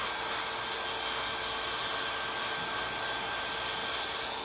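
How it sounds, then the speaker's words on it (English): An electric fan runs steadily and close by in a workshop where a furniture finish is being made, giving a constant broadband whoosh with a faint tonal hum and no talk. "I've got to turn my fan on again"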